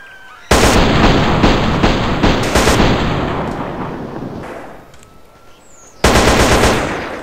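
Automatic gunfire from a weapon in GTA San Andreas, loud rapid bursts of shots that run for several seconds, fade, then break out again near the end, with no talking.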